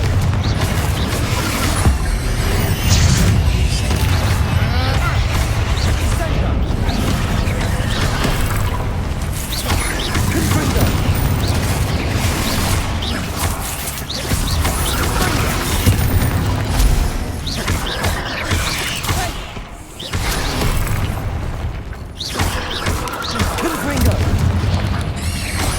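Repeated booming fire-spell blasts cast in Hogwarts Legacy, loud and dense over a busy battle mix of crashes and mechanical clatter, with several bursts across the stretch and a voice speaking at times.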